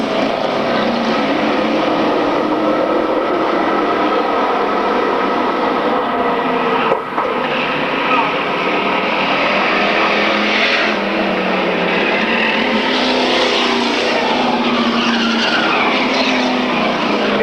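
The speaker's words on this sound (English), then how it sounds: "Paul Jorgensen makes the break and heads down the back straightaway as Don Collette in hot pursuit" Race cars from a 1995 RGS road race, including a March machine, roar continuously down the back straightaway, loud and close with sustained engine whine and shifting pitch throughout.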